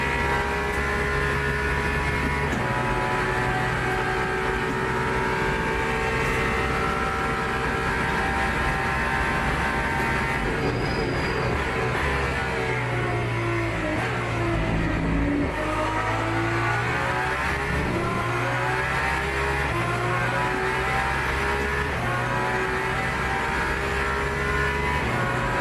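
Ferrari race car engine in a racing video game, a loud continuous roar with engine pitch rising and falling through gear changes and shifting revs, no talking.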